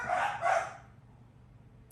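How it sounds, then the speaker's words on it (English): Dogs barking indoors, two quick muffled barks close together, moderately loud, followed by quiet room ambience. "I paused the video for a little bit so my dogs could, you know, bark"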